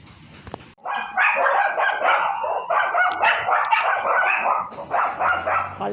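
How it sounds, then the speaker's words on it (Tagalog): A dog barks repeatedly outdoors in a residential neighborhood, a rapid string of sharp, moderately close barks and yips continuing almost without pause. "Ang cute ng aso."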